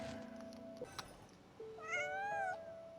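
Bonnie the cat meows in the video game Genshin Impact: a short rising meow near the end, set against quiet game tones and a few soft clicks, with no voices.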